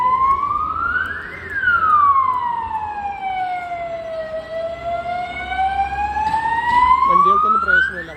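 An ambulance siren under police escort passes along a street, its loud wailing tone sweeping up and down with strong pitch bends as it goes by, over traffic rumble.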